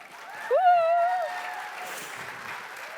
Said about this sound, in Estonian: Aplaus meie segaduses blondiinile Miila-Maria Kutju.